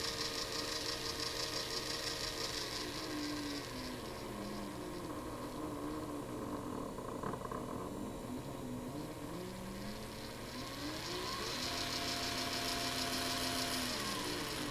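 A small electric motor with its speed set by PWM spins with a steady whine and hum, its pitch sliding down and back up as the speed changes, close and continuous with no voices.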